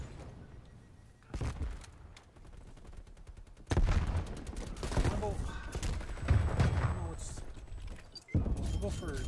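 Rapid automatic fire from an XM4 rifle in a shooter game comes in several bursts of varying length, close and fairly loud, with talk over parts of it.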